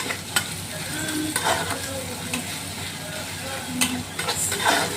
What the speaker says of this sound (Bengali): ভালো করে নেড়ে চেড়ে নিয়ে আদা রসুন যাতে গন্ধটা চলে যায়